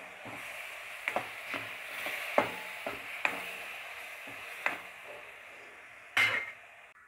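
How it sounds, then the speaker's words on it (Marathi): Tomato puree with masala roasts in oil in a pan, a low sizzle punctuated by repeated spoon taps and scrapes against the pan, with a louder clatter near the end. "आपण टोमॅटो याच्यामध्ये छान भाजून घ्यायचं आहे"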